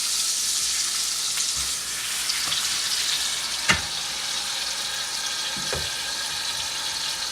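Pork tenderloin braises in ruby port in a hot pan, giving a steady bright sizzle with a few sharp clicks and taps of handling, close and continuous, with no talking.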